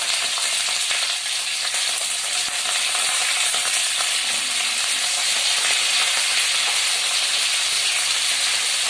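Carrots and cauliflower fry in a pan for khichuri, with a steady, close sizzle and hiss that runs without a break and never fades.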